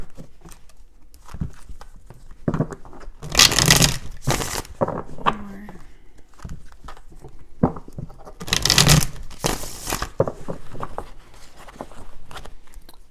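Tarot cards are shuffled in two distinct bursts of crisp, riffling flutter, close and fairly loud, separated by quieter handling noises and light rustling.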